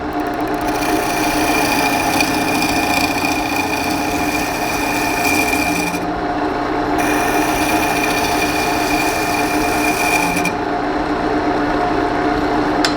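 A woodturning lathe spins a segmented cherry bowl while the top is flattened, giving a loud steady motor whine with a constant scraping hiss that drops out briefly twice.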